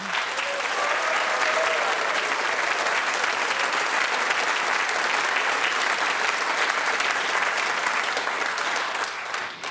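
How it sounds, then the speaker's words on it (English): Vintage archive recording of a studio audience applauding after a quiz round, a dense, even wash of many hands clapping at moderate distance that holds steady and fades slightly at the end. "a vintage round of applause from the Brain of Britain archives"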